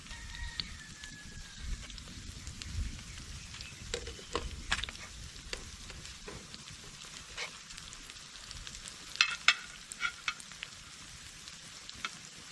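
Curry lobster fritters deep frying in oil in a pot on a turned-down stove, a steady low bubbling sizzle with occasional sharper pops and crackles, close and moderately quiet, no talking.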